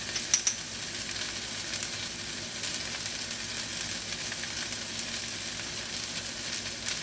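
Turmeric and curry powder fry in a pan with a steady, close hiss of sizzling, and a couple of brief clinks from a stirring utensil come near the start. Nobody speaks.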